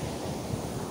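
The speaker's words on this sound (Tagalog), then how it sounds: "Malakas yung alon eh, no?" Strong surf washes onto a beach in a steady, dense roar, with wind buffeting the microphone and no voices.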